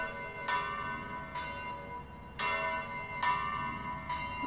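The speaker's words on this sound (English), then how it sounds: "So on the first one here, I've got a recording of bells." Large church-style bells ring in a slow, uneven series of strikes, each with a long humming decay that overlaps the next, fairly faint and heard alone.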